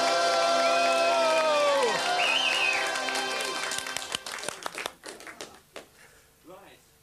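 A studio audience applauds and cheers to welcome a singer on a 1995 radio-TV show, a dense crowd roar under an excited host's shouted voice, thinning into scattered claps toward the end.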